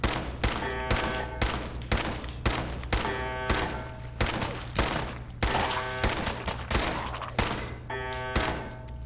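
Rapid, sustained automatic gunfire in the post-apocalyptic game Fallout 4: loud, evenly spaced shots ringing out one after another over a steady low hum, with no talk.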